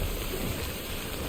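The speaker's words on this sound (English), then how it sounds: "I just want to get out of the rain, at the very least." Steady, dense rain hisses in the Death Stranding video game, a continuous even wash of falling water with no talk over it.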